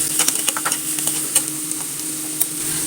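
Finely chopped green chillies frying in a pan, a steady close sizzle with light stirring clicks and scrapes scattered across it.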